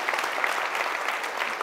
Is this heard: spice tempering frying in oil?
no